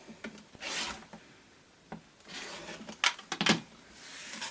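A quilt block is trimmed along its top and side edges, with soft rubbing, sliding and cutting sounds in brief close bursts, the loudest strokes near the end, and no speech.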